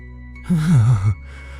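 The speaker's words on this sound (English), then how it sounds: "she heard something else breath, a low exhale from the house itself, rising from the vents like the place was alive" A low, drawn-out exhale rising from a house's vents in a dark, quiet setting, one breathy sigh with a wavering throaty tone lasting about half a second before fading back into a faint hum.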